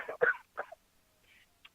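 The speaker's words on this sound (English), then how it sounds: "Didn't mean to catch you in a cough there." A man coughs during a studio interview, three quick rough bursts close to the microphone, followed by a faint throaty sound and a small click in near silence.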